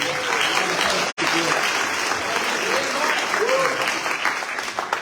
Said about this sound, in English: Let's give Mark a round of applause again